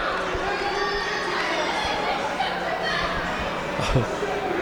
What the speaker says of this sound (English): There's some kids out here yelling some awful things to him